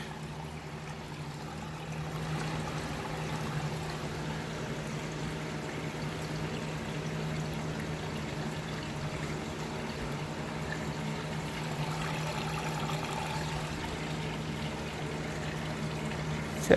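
A washing machine drains its water, a steady low rushing flow with a faint constant hum underneath, heard from a short distance and continuing evenly without pause.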